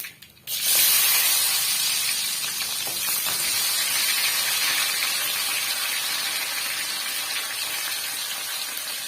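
Small onions hit hot oil while a bitter gourd curry is being made, setting off a sudden loud hiss after a brief quiet moment that then holds as a steady, bright frying sizzle close to the pan.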